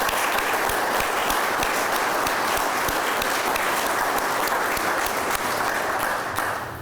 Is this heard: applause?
yes